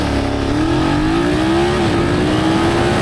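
BMW F900R motorcycle accelerating hard from 0 to 100 km/h, a loud, close engine roar climbing steadily in pitch with a brief dip at a gear change, continuous throughout with no talk.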